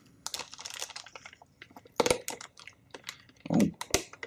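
A blade cuts through tough plastic packaging on a OnePlus 6T phone box, giving close, irregular crackles, snaps and crinkles in short bursts with quiet pauses between.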